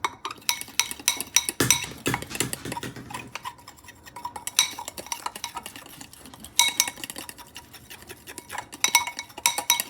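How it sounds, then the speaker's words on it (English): A spoon clinks and scrapes against a bowl while stirring a sugar and milk glaze for cinnamon rolls. The taps come fast and irregular in close bursts, with no voices. "Stir it, stir it, stir it."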